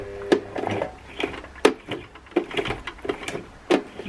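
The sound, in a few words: sewing machine stitching fabric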